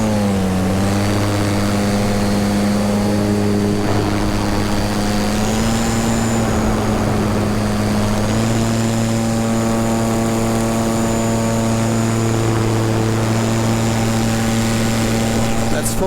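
An electric paramotor's motor and propeller run at full throttle in flight, a loud steady harmonic drone that rises slightly in pitch partway through, with a faint high whine and wind rush throughout.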